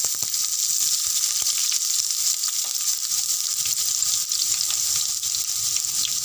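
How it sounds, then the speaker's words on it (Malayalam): Chopped garlic and ginger hit hot oil in a pan for a Kerala-style fish curry, giving a loud, dense, continuous sizzle that holds steady throughout at close range, with only faint clicks and no talk. "ഞാൻ കട്ട് ചെയ്ത് വെച്ചേക്കുന്ന ഗാർലിക് ജിഞ്ചർ ഇട്ട് കൊടുക്കാം"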